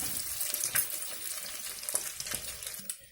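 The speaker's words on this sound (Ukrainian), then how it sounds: "викладую все наші рулетики на гарячу сковорідку і смажу" Steady crackling sizzle of pita bread rolls filled with cabbage and cheese frying in a hot pan, continuous and close, with no voices.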